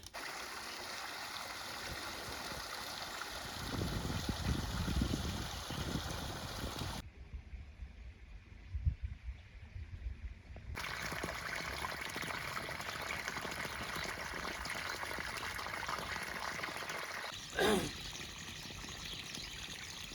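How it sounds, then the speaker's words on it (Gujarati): Water gushes and splashes steadily from a pipe fed by a small motor pump, a continuous rushing flow that briefly cuts out before resuming, with no voices. "હવે ભાઈ આપણે પાણી શરૂ કર્યું. આ નાની બીજી મોટરમાંથી આવે છે"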